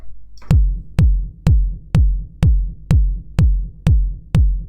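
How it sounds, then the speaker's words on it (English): A punchy electronic kick drum hits nine times in a steady tempo, each a deep booming thump with a quick decay, loud and alone. "The kick sounds like this."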